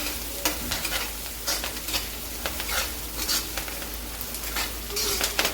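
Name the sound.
turmeric being stirred into sizzling spice tempering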